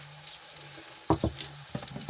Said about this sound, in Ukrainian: Так, хай смажить.